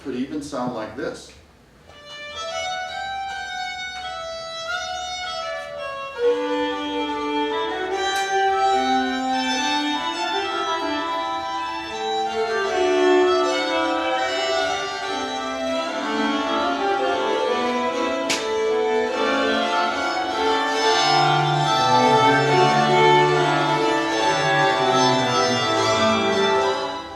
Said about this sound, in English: That's an excerpt from Viper's Battaglia, which depicts soldiers drinking in a tavern.